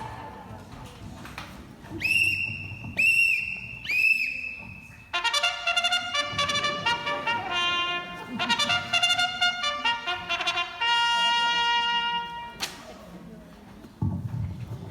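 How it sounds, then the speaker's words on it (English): Police whistles shrill in short repeated blasts within a stage musical scene, followed by bright orchestral music with sustained tones, some faint voices underneath. "Sound your whistles, boys."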